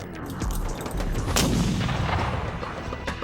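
Rifle gunfire in a Wild West fight with Comanches, a dense, booming rumble of shots with echoing reports, fairly loud and sustained and heard without voices.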